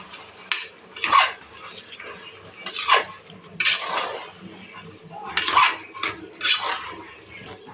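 A metal utensil scrapes and clanks against a cooking pot while stirring a kilo of mutton for mutton intestine curry, in several close-up bursts with quiet gaps between strokes.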